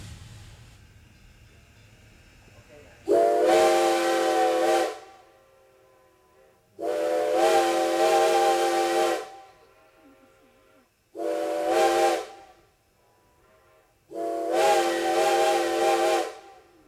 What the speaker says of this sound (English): Now listen carefully for that ghost whistle.